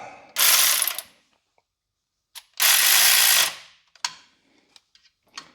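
A hand ratchet snugging bolts on a timing chain guide of a 2004 Ford 4.6L 2V engine: two loud, close bursts of rapid clicking, each followed by a few lighter single clicks.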